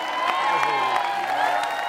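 A studio audience on a television variety show applauds, with continuous crowd clapping and some cheering and whoops mixed in, fairly loud and sustained.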